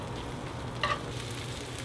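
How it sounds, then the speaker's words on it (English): Sliced food frying in a pan over medium heat gives a steady, even sizzle throughout, with one brief louder crackle partway through. "we're going to cook them in medium heat on a pan for about 2 minutes"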